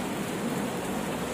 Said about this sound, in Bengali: বেশ ঝোড়ো হাওয়া এবং সঙ্গে বৃষ্টি